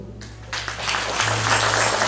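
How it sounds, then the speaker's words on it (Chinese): A church congregation breaks into applause during a Sunday service, clapping rising quickly from a quieter start and continuing dense and steady, with a low hum beneath. "我们一起拍手感谢主。"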